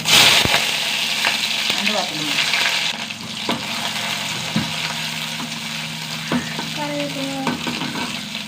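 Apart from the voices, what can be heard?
shallots frying in oil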